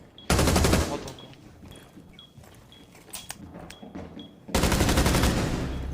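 Bursts of rapid automatic gunfire ring out in a video game, one long volley at the start and another near the end, with quieter clicks and footsteps between them.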